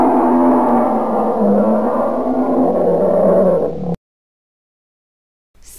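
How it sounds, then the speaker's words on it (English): A polar bear gives a low, sustained rumbling roar lasting about four seconds, then cuts off into silence. "Polar bear."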